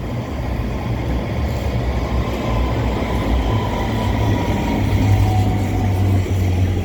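A train at Stockholm central station, a loud, continuous low rumble with a droning hum and faint squeals, steady throughout with no voices.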